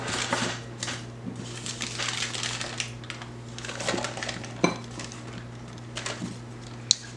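Butter is cut up for pie crust, giving light rapid tapping and clicking of a knife on a board, close and fairly steady, with a few sharper knocks over a low background hum.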